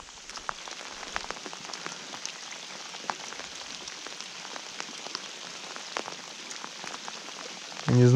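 Steady rain pattering on a surface during a fishing trip by a boat basin, a dense even hiss dotted with sharper drop hits, continuous throughout with no voices.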